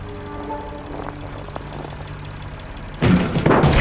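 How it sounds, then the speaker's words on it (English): Diesel generators running in a shed at a Nazi camp in the video game Lost Horizon, a low steady mechanical drone under the scene, joined at the end by a sudden louder burst of noise. "Judging by the engine noise and the smell, there are diesel generators in this shed."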